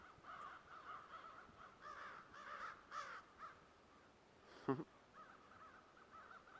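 Crows caw repeatedly outdoors, a string of harsh calls at moderate distance with one louder, closer caw near the end, over faint background noise.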